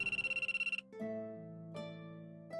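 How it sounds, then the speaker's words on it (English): A cell phone rings close by with a rapid electronic trill, about a dozen quick pulses, then breaks into a sustained melodic ringtone of a few held notes. "My cell phone rang."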